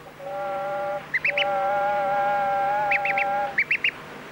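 A duck quacks in several short bursts over a sustained, steady tonal hum, with three clusters of quacks spaced across the clip.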